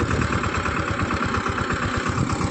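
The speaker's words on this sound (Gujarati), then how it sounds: "હવે આપણે આખા ખેતરમાં આ ટ્રેક્ટરથી ખેપા હાંકવાના છે." A small tractor runs in a farm field, its engine chugging in a fast, steady, close thumping rhythm with no voices.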